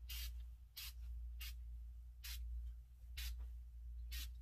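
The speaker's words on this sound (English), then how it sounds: "And I'm going to spray this product." Six short hissing bursts of foaming cleaner sprayed on a dining light fixture, evenly spaced, over a steady low hum; each spritz is brief and close.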